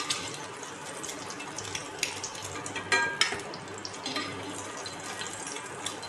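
Eggs fry gently in oil on a tawa, giving a soft, steady sizzle with faint scraping and stirring clinks, heard close but quietly and without talk.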